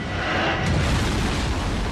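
A booming explosion sound effect standing in for a supernova, a dense, continuous low roar with rumbling bass that holds at a loud level for about two seconds without distinct separate blasts.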